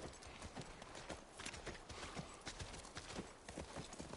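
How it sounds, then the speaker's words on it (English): Rapid, continuous hoofbeats of a galloping horse in The Last of Us Part 1, dense and fairly loud against a bright, noisy backdrop. "That's our horse."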